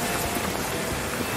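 Steady rain patters continuously on a surface, a dense even hiss with faint scattered drops, no voices.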